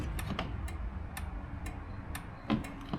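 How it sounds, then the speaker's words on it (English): A Performax chain drive garage door opener runs with a steady mechanical clatter and evenly spaced ticking, fairly close and continuous, with a heavier knock near the end. "Run the chain drive for a second here."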